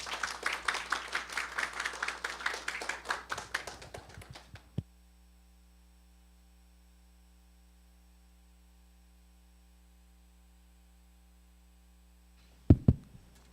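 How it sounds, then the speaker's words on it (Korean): An audience at a Korean energy forum applauds to welcome an economics professor to the podium. Dense clapping lasts about four seconds and fades into quiet room hum, with a few thumps and knocks near the end. "환영의 박수 부탁드립니다"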